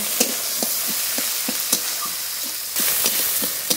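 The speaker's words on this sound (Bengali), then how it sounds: "টমেটো কুচি, লঙ্কা কুচি একসঙ্গে একটু কষিয়ে নেব" Chopped tomato and green chili sauté in a hot pan, with a steady sizzle broken by regular, close stirring scrapes roughly every third of a second. There is no talking.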